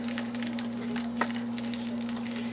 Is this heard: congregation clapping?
no